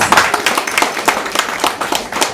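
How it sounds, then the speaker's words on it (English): A small audience at a book and card-deck launch gives a short burst of applause, loud and close, with distinct individual claps in an uneven rhythm over about two seconds. "Round of applause for that."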